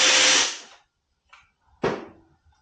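A power tool with a 9/16 socket spins off rusty bolts: a loud whirring burst that winds down, then a faint clink and a second short sharp burst with a quick trailing rattle.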